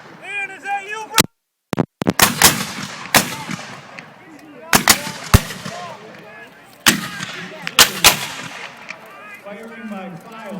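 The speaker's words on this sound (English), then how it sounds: "Firing by files, once they have fired then you can as fast as you can, so firing at will" Historical reenactors at Greenfield Village fire muskets in a Memorial Day weekend battle demonstration, first by files and then at will, giving a string of sharp, loud reports spaced unevenly over a crowd murmur, with some chatter nearby.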